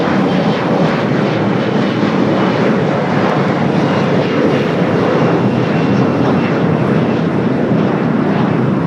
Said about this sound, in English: Lufthansa Dreamliner heading back to Frankfurt, heading up to the north side